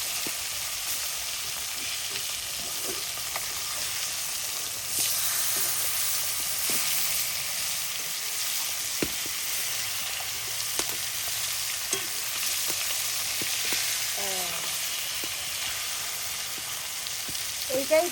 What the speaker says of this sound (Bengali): চেরা লাল লാল লাল করে ভাজা হয়েছে